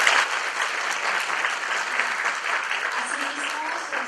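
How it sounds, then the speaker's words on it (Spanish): An audience at a law seminar applauds steadily and fairly loudly, a dense, even wash of clapping that holds for the whole stretch without voices. "Fuertes aplausos, por favor."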